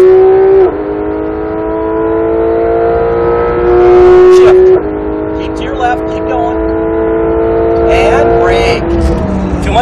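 A Porsche GT3 RS engine accelerating hard on a track, heard from inside as a loud, close, rising howl broken by quick gear shifts, with a voice talking intermittently over it.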